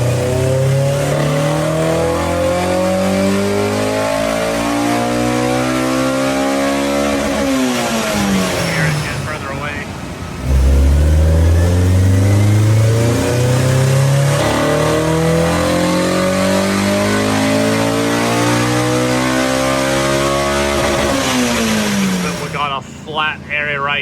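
A Honda S2000 engine revs hard in a garage, climbing smoothly to a high scream, dropping, then sweeping up again through its VTEC range, loud and close.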